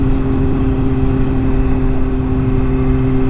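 A 2013 Kawasaki Ninja 636 motorcycle engine while riding, a steady loud droning hum with constant pitch, close and unbroken, mixed with wind rush.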